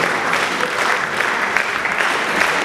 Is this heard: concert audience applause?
yes